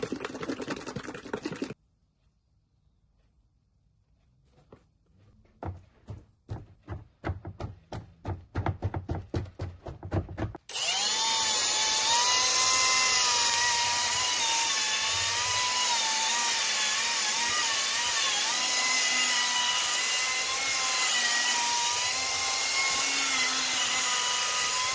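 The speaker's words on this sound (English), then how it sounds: "But now I need to buff them. I'll do one headlight at a time" A power buffer polishing a car headlight pulses in a series of quick bursts, then runs continuously with a loud, whining, fluctuating motor tone close by.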